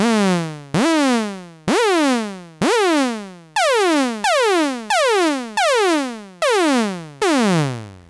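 Dreadbox Nyx synthesizer with oscillator 2's pitch swept by modulator 2: about ten loud, evenly spaced notes, each starting high and quickly gliding downward in pitch, with no voices over them.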